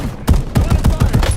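Gunfire in Black Ops 7 Warzone comes as a quick string of about six loud, close shots in a fast, even rhythm.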